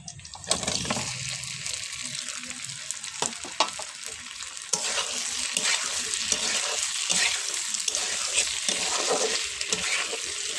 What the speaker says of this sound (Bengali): আলুর সঙ্গে পেঁয়াজটা খুব সুন্দর ভাজা হবে একসঙ্গে